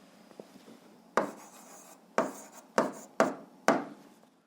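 Someone writes out the answer to a physics problem. Five distinct scratchy strokes come at uneven intervals, each with a sharp start, up close in an otherwise quiet room.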